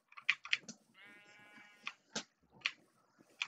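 Minecraft sheep bleat in short, close, nasal bursts, several quick calls in a row, one drawn-out wavering bleat, then more scattered bleats, with faint clicks in between.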